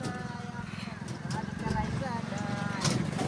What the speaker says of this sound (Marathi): आज मी कुठे बसलेला आहे बघा, बैलगाड्यात बसलेला आहे.